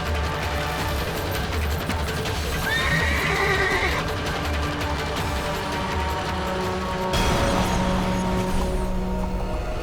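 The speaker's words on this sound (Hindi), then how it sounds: "सैनिकों, इससे पहले कि घोड़ा और सैनिकों को घायल करे, इसे पकड़कर रस्सियों से बांध दिया जाए।" An agitated horse neighs loudly in a historical drama scene, its whinnies rising and falling near the listener, mixed with hoof clatter and commotion, with a sharper burst of noise toward the end.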